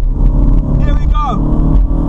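BMW Z4 with an automatic gearbox accelerating, its engine a steady deep rumble close by with a brief rising whine, while someone talks over it.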